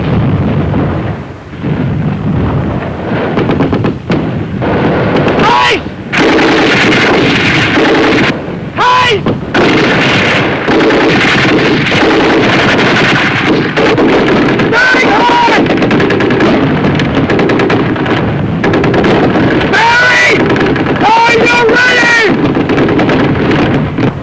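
Sustained covering fire in a WWII video game battle, booming artillery and rattling machine-gun bursts rolling continuously and loudly, dense and layered throughout with brief dips between salvos.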